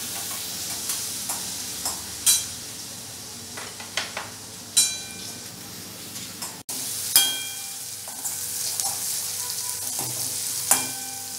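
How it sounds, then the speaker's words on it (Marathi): Coarse ginger, garlic and green chili paste sizzles loudly in hot oil for Mumbai vada pav, a steady hiss broken by repeated sharp spatula scrapes and knocks against the pan. "आपण याच्यात आलं, लसूण आणि मिरची याची भरड जी केली आहे ती घालून घेणार आहे."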